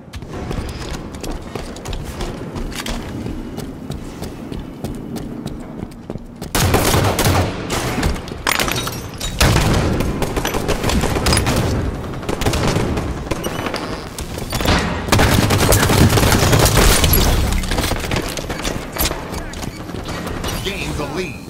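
Halo 5 slayer match gunfire crackles in rapid bursts and repeated shots, getting louder and denser partway through, with a player talking over the action.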